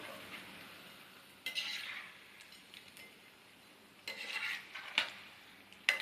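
Egg bondas being flipped in a frying kadai, with a few sharp metal clinks of the turning utensil against the pan over a quiet, steady background hiss.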